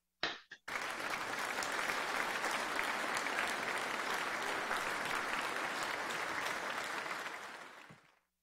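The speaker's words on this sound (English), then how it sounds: "we share a virtual round of applause" A crowd at an awards ceremony breaks into sustained applause, dense clapping holding steady for several seconds before tapering off at the end.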